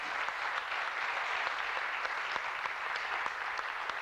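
An audience at a beauty pageant crowning claps steadily for several seconds, a dense, even patter of many hands heard from a moderate distance.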